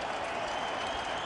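A baseball stadium crowd of more than 56,000 rises to its feet, applauding and cheering in a steady, dense roar of noise with no break, heard at a distance from the stands during a Phillies versus Mets game.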